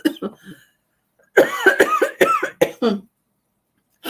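A person coughs in a run of harsh, throaty bursts, two quick coughs followed by a cluster of four or five louder hacks, close and clear with short pauses between.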